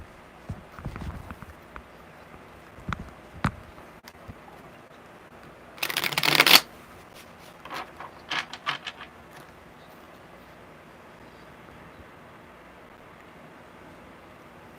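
A brisk burst of tarot card shuffling stands out, with scattered light taps and handling noises before and after in an otherwise quiet room.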